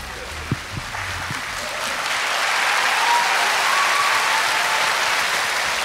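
Audience at the Blue Dragon Film Awards ceremony breaks into applause and cheering as two presenters walk out, starting after a few faint knocks and swelling into a loud, sustained wash of clapping.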